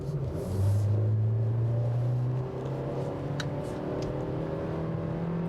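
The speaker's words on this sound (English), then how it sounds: "The buzz that you get from this engine is just awful." A Nissan Versa engine with a CVT transmission drones steadily as it accelerates, holding a continuous buzzing tone with a rising pitch, heard from inside the car with no talking.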